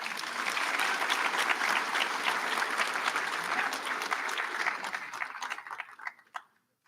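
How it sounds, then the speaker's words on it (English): A commencement audience gives a full, dense round of applause that holds steady for several seconds, then thins to a few scattered claps and stops. "we'll give him a round of applause."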